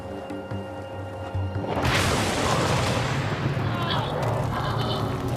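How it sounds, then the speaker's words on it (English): A gasoline-doused boat explodes as the fumes ignite, a sudden loud whooshing burst that swells into a sustained roaring blaze, following quieter ambience with a voice speaking. "The gasoline fumes ignite, causing a huge explosion."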